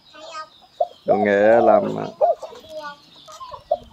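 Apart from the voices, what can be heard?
chickens clucking during capon surgery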